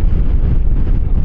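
Strong, steady wind roars and buffets the microphone while riding a Yamaha Xmax 300 scooter past open fields, loud and continuous with no talk.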